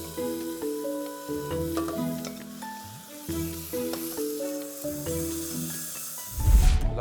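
Stuffing meat sizzles and browns steadily in a pan, a soft continuous fry under faint background music, ending in a louder burst of hissing as the mixture is stirred.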